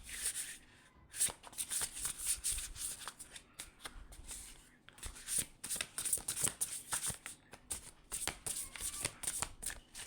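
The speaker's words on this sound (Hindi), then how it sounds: "एक बार और शफल कर लेते हैं।" Tarot cards are shuffled by hand close up, a dense run of crisp riffling flutters and soft slaps in quick repeated bursts with brief pauses, and no voice over it.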